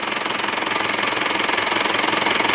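A 2000 Isuzu Panther New Royal diesel engine runs at idle, giving a steady, loud, close rhythmic clatter with an even fast pulse and no talking.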